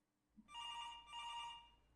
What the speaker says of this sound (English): ring, ring, ring, do you want to answer the phone call?